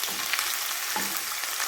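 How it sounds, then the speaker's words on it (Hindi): Chicken pieces fry in a hot pan for an aloo chicken dish, giving a brief, steady broadband sizzle with a small crackle burst near the middle and no voices. "अब इसके अंदर जो है मैं ये चिकन डाल के इसको फ्राई करती हूँ।"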